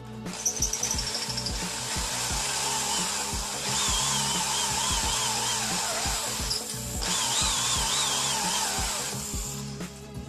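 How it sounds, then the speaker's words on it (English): A power drill whirs loudly in several bursts, its pitch sliding as it bites into a wooden shovel handle held in a vise, with short pauses and clicks between runs. "put the handle in the vise, and then you just kind of start drilling"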